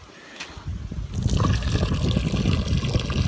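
Water runs from a newly installed tap fed by a well, starting after a quiet second and then gushing steadily and close, splashing loudly without any talk.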